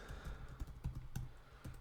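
Typing on a computer keyboard while formatting a screenplay: a quick, close series of light key clicks and taps, fairly soft, with no talking.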